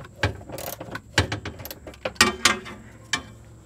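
A wrench breaks loose the fuel tank strap bolts under a Chevy Cavalier or Pontiac Sunfire with a 2.2L Ecotec, giving irregular close metallic clicks, clanks and scrapes with short pauses and no talking.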